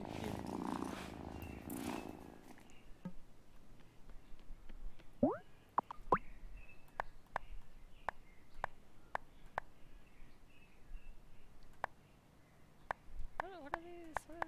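A pet cat purrs in the video game Wylde Flowers, a soft ongoing rumble beneath scattered plinks and chirpy game sound effects, with a few bright rising tones near the end.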